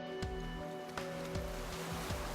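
Sea waves from the Fate/Grand Order video game, a steady wash of surf with soft swells breaking every second or so over a low, constant musical drone.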